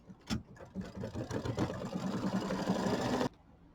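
An embroidery machine stitching satin stitches onto a small October mini quilt, a steady fast mechanical whirring chatter that runs for about three seconds and then cuts off abruptly.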